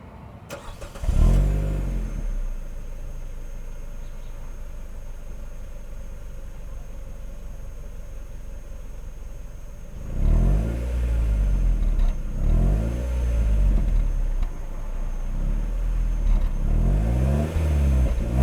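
A car engine cranks and catches, settles into a steady idle for several seconds, then revs hard in repeated bursts through the exhaust, loud and close with no talking.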